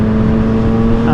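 A Triumph Street Triple 765RS motorcycle fitted with an SC Project exhaust runs in a steady, loud, close drone with a strong low hum and no break, sounding like a held high idle or sustained rev.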